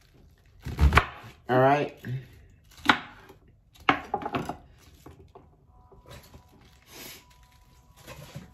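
A knife chops through a head of cabbage in a home kitchen with a few sharp, close strikes that cluster and then thin out, and a voice speaks briefly between them.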